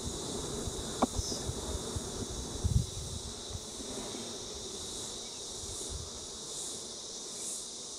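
Honey bees buzz steadily around a hive frame during a brood inspection, a continuous soft drone with a few louder passes close by, no talking.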